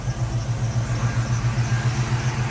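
Foxbody Mustang fitted with a Mac X pipe, its engine running at a steady idle with a deep, rhythmic exhaust burble that stays close and even throughout, with no talking.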